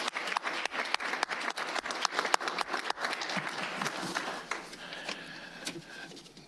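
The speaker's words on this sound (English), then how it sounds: "Let's give her a round of applause, please" Audience at a Rockford Public Schools board meeting claps for a student, a round of sharp, distinct hand claps that thins out and grows sparser toward the end.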